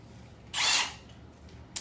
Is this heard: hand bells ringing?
no